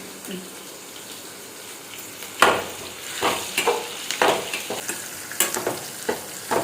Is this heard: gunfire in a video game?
no